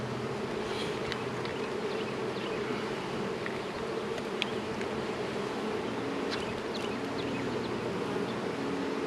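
Honey bees buzzing steadily around an open hive during a late March inspection, a dense continuous drone close to the microphone with no speech.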